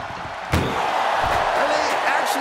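An ambulance door slammed shut during a WWE 2K24 match, a single sharp bang half a second in, followed by a steady crowd roar and commentary.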